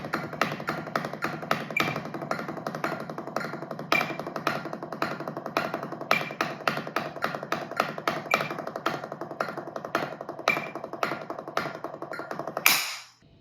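A drummer plays a 3-2-1 warm-up exercise of triples, doubles, singles and double paradiddles as a rapid, even stream of crisp strokes with regular accents, close and clear, stopping at the end.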